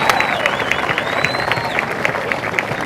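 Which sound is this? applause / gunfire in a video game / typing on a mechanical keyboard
applause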